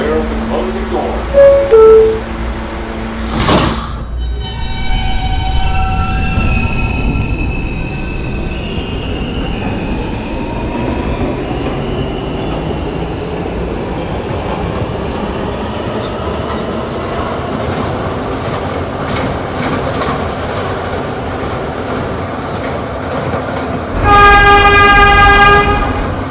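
An R160 E subway train runs between stations, a sustained loud rumble of wheels on rails with rising squeals, an automated voice announcing beforehand and chimes at the start and end.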